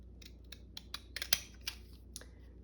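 Scissors snip through stamped paper in a craft junk journal, a series of about eight short, crisp cuts spaced unevenly, quiet and close, with no talking.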